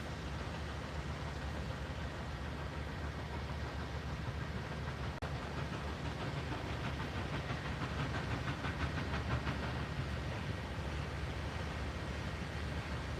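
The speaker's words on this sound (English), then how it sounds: "I hear a steam engine." Southern Railway steam locomotive 630 rolls past at the Tennessee Valley Railroad Museum, a steady hissing, rumbling wash of steam and rail noise at moderate distance, with faint rhythmic chuffing in the middle stretch.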